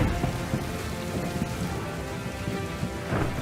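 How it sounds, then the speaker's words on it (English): Heavy rain pours down steadily over a desert terrarium during a simulated storm, a dense, continuous wash of droplets with low rumbling undertones, loud and close with no speech. "one of the few storms of the entire year was about to commence"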